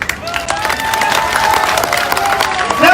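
A crowd at a public meeting in Raebareli, Uttar Pradesh, breaks into loud, dense applause with cheering and shouts, continuous through the short stretch and rising slightly at the end.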